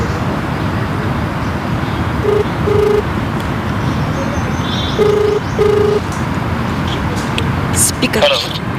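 Telephone keypad tones beeping in two pairs as a call is dialed, heard over steady road traffic with a person talking alongside.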